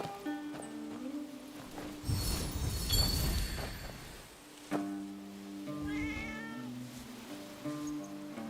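A cat meows repeatedly during a quest in the video game Genshin Impact, a string of drawn-out, wavering mews over quiet game background sound.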